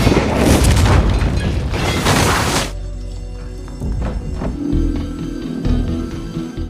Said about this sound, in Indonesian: Kwan mengubah barang-barang tadi menjadi sebuah mini bom, yang mana daya ledaknya hanya menghancurkan toilet saja